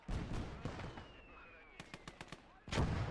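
Mortar fire and explosions on a trench battlefield in the Gates of Hell: Ostfront game, with loud booms at the start and end and a quick series of sharp bursts in between, a whistling streak passing over them.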